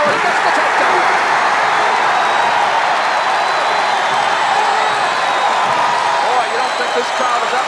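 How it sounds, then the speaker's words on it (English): A college wrestling crowd roars steadily during a heavyweight dual meet against Iowa State, a dense wash of cheering and applause, with broadcast commentary talking over it. "This crowd is up now."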